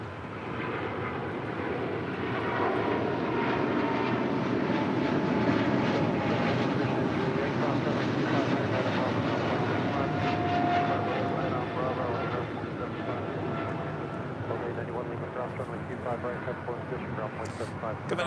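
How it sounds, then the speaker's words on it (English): A Delta Airlines Boeing 737-900ER jet arriving at Los Angeles airport at night on the Fourth of July, a steady broad engine roar that holds loud throughout, with a voice talking over it. "Coming in from Nashville, Tennessee, that is Delta Airlines flight 891 and the 737-900ER."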